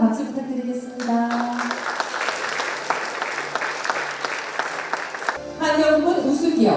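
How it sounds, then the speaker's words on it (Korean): Audience at a corporate ESG management award ceremony gives steady applause for several seconds, bracketed by voices at the start and end. "따뜻한 박수 부탁드리겠습니다"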